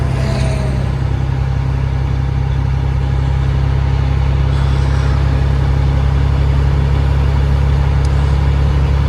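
A semi truck with a trailer pulls away, its engine giving a loud, steady low rumble that fills the whole stretch close by, with no talk.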